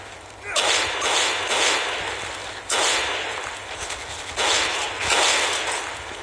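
Gunfire bursts in the mobile game Call of Duty Mobile, loud sharp volleys recurring in several waves of rapid shots over a steady low game hum, with no talk.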